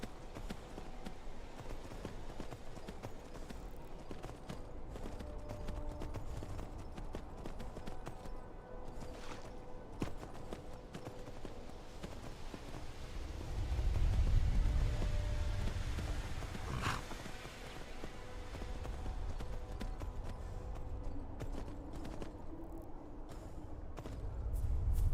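A horse in the video game Skyrim clops along with faint, muffled hoofbeats. They sit low under quiet background ambience and swell briefly partway through.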